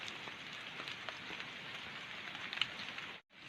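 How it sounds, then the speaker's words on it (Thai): Steady rain patters densely on a surface, a continuous hiss with small drop ticks, moderately close and uninterrupted apart from a brief dropout near the end. "ฝนตกครับ"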